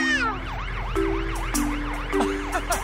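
Cartoon fire engine siren in a children's animated song, a loud wailing tone that rises and falls in repeated sweeps over a steady low music bed, with brief bright accents.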